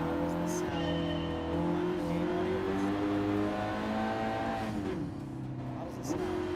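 A car engine in Gran Turismo 7 revs and holds steady, rising tones, fairly loud and close, with a brief dip before it picks up again near the end; no one talks.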